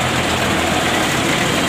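Tow trucks work to recover a CPO palm-oil tanker truck, with a heavy diesel engine idling steadily and loudly close by, a constant low rumble under a broad noisy hiss.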